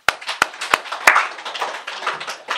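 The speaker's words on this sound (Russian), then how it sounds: "Давайте похлопаем" A church congregation applauds during a service: a few sharp, separate hand claps open, then merge into a steady wash of crowd clapping that carries on without speech.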